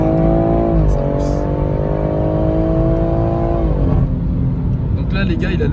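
A BMW 140i xDrive with four-wheel drive accelerates hard with the wheels slipping, its engine droning loud and rising, then dipping briefly before pulling on, with voices inside the car.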